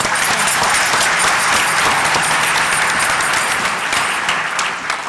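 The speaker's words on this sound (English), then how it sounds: "If we can give her a round of applause." A city plenary audience breaks into loud, dense applause, many hands clapping steadily for about five seconds before tapering slightly at the end.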